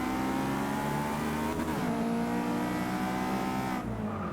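A Honda S2000 race car in the Forza 6 racing game, run in C-Class at Spa in the dark, drones at steady high revs close by, its engine pitch sliding and settling over a continuous dense roar with no voices.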